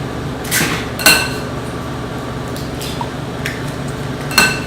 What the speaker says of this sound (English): So crack your eggs in there.